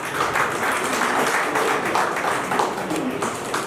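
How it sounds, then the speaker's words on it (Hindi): Audience applause at the premiere of the award-winning film 'Ek Kiran Ummeed Ki', a dense, steady wash of many hands clapping that fills the whole stretch at an even level. "अगर आपकी ओर से खूब तालियां आएंगी"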